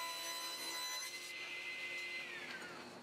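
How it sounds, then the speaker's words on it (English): A table saw rips a one-inch square piece of wood stock, its high whine shifting in pitch as the blade cuts through, then slowly winding down, close and fairly quiet. "I start by ripping down a perfectly 1-inch square piece of stock on the table saw."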